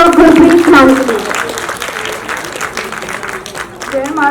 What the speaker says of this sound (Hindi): जोरदार तालियां बच्चों गुरप्रीत खान के लिए